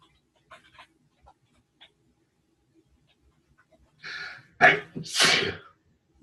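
A person indoors gives a sharp, close sneeze with a quick inhale before it and a loud burst after it, following a few soft faint noises.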